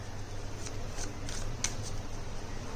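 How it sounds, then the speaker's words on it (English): A deck of playing cards being shuffled for a simple card trick, a run of crisp riffling bursts in quick succession over a low steady hum, close and clear, with no talk. "I'm going to give the deck a shuffle."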